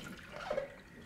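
Water squeezed from soaked fishing pellets is poured down a sink, giving a brief, faint splash and trickle that lasts about a second.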